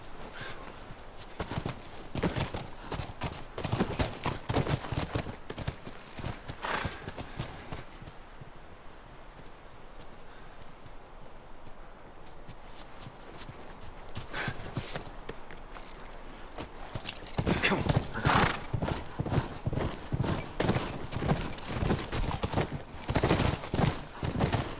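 Horses trot in The Last of Us, hooves clip-clopping in a fast, steady rhythm that drops away in the middle and returns louder near the end, with occasional quieter stretches of ambient game sound.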